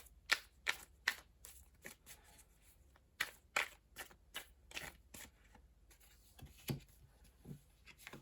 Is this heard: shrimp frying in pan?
no